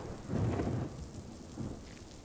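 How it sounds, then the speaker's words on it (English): Rain hisses steadily in the Death Stranding video game while low rumbles of thunder swell and fade twice, fairly quiet overall, with no voices over it. "He said it doesn't rain here!"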